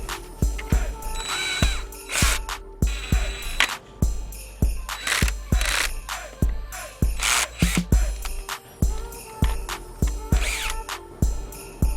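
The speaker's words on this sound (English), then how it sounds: "I always like to turn my drill down to the lowest setting" Cordless power drill set to its lowest speed driving screws during a headlight switch repair on a 2004 Dodge Ram, heard as short whirring bursts with ratcheting clicks and small knocks in a close, quiet space.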